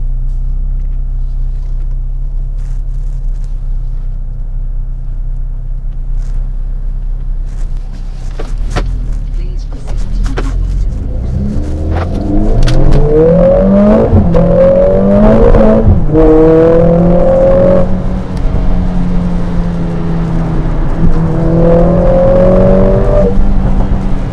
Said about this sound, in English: So let's quickly put it into drive and we will take off.